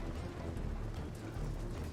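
Steady rain pours down across a battlefield in Medieval: Total War Viking Invasion, a dense, even wash of noise with a low rumble beneath it and no break or talk.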